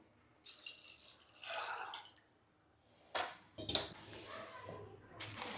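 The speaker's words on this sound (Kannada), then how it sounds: "ಇವಾಗ ಅದಕ್ಕೆ ಎಷ್ಟು ಬೇಕೋ ಅಷ್ಟು ನೀರು ಹಾಕ್ಕೊಳ್ಳಿ." Water is poured from a vessel into a pressure cooker holding washed rice, two bursts of splashing and trickling with metallic clinks in between, close and fairly quiet.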